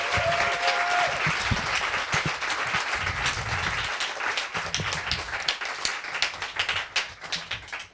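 Audience at an evening literary reading applauding the fellows and mentors, a dense sustained round of clapping that thins out toward the end into scattered individual claps.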